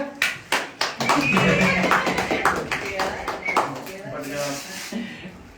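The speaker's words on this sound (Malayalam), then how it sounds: "ഓക്കെ നെക്സ്റ്റ് കൈയടിക്കും കുട്ടികളെ" Children clap their hands at a birthday celebration, starting with a few sharp separate claps and then a dense, steady round of clapping, with voices talking and calling over it.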